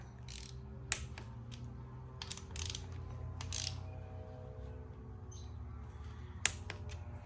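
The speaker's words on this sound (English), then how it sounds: "now we'll torque them up to spec" Torque wrench clicks and ratcheting as timing chain bolts on a Ford Barra engine build are tightened to spec, a few sharp mechanical clicks and short ratchet bursts, close and fairly quiet over a low background hum.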